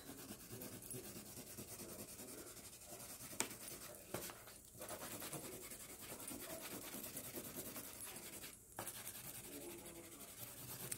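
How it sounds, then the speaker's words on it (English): A colored pencil scratches and rubs across paper in continuous soft strokes, faint and close, with a couple of brief taps. "And also, I'm going to use the pencil."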